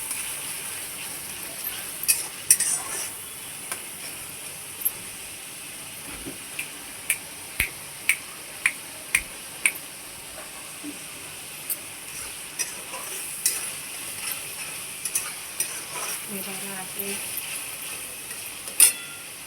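A spoon scrapes and stirs ginger-garlic paste in a frying pan over a soft steady sizzle, with regular sharp taps against the pan roughly every second, close and clear.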